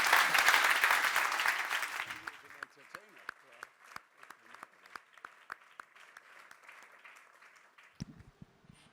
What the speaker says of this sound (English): I would like an applause from everybody for this special award that's going out to you